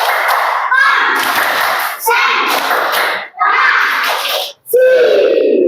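Children in a school movement lesson play a concentration clapping game, chanting together in four loud bursts punctuated by sharp hand claps, with brief pauses between rounds.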